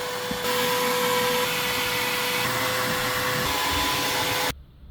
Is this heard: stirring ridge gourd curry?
no